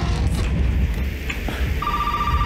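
A telephone in the Resident Evil 7 horror video game starts ringing partway through, a steady electronic ring tone rising over dark ambient rumble and scattered noises, fairly loud, with no talk over it.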